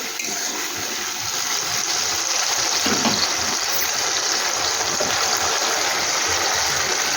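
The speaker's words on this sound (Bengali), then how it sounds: "এভাবেই এখন ভেজে একটু নেড়ে নেব কাঁচা গন্ধটা চলে যাবে" Ginger and green chilli paste frying in a pan gives a continuous close sizzle with light scraping as it is stirred, steady and fairly loud throughout.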